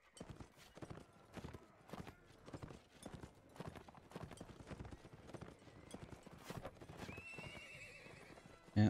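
Horse hooves clip-clop at a steady gallop with a neigh near the end, in the medieval combat video game Mount and Blade Warband, set amid battle noise and faint background sound.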